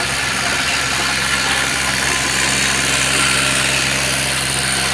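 A driverless tractor pulls a rotavator across a farm field, its engine droning loud and unbroken with a steady mechanical rumble and no pauses.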